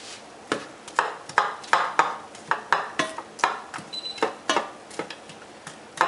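Garlic and onion sauté in oil in a pan, with a utensil scraping and stirring in a steady rhythm of close, crisp strokes over a faint sizzle.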